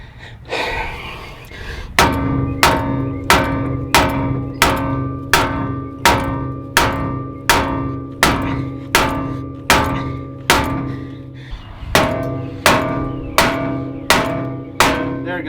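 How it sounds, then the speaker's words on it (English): A mallet pounds a Toyota Tacoma truck spindle to free the ball joint: loud, ringing metallic blows land about once a second, more than a dozen in a row, with heavy panting breaths between them. "you're gonna go to town with the mallet right here until the spindle flexes and releases that ball joint"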